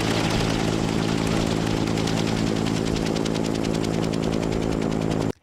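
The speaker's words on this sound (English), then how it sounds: "This helicopter just goes on forever" A helicopter drones continuously and loudly overhead, its steady engine roar and rotor thump holding without a break before cutting off abruptly at the end.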